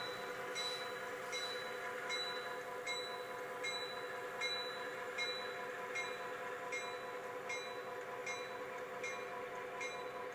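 Freight train 4080 rolls steadily through the Castlegar rail yard, a continuous rumble of wagons with rhythmic clicking of wheels over rail joints, moderately close and without voices.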